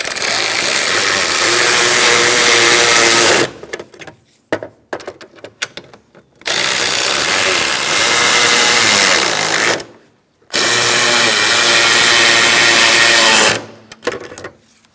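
A power tool tightens bolts on the AC condenser of a 2007-2017 Ford Expedition, heard as three loud, steady whirring runs of several seconds each, broken by quieter clicks and handling noise.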